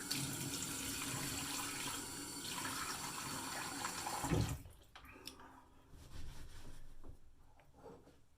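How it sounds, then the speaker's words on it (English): A bathroom tap runs into a sink while a face is wetted before shaving, a steady close rush of water that stops partway through, leaving faint splashes and handling sounds. "Get some water on the face here."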